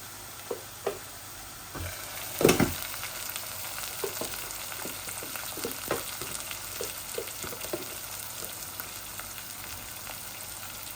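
Ginger and garlic hit a hot oiled pan for a chicken and potato curry, sending up a steady close sizzle with a sharp clatter early on and soft scattered stirring taps afterward.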